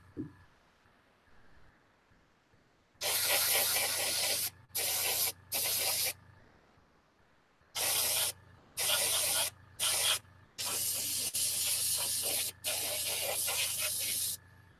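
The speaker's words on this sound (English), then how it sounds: "It don't take much paint when you're airbrushing" Airbrush spraying metal parts red, long steady hissing bursts of several seconds each separated by short pauses, close and loud with no talking.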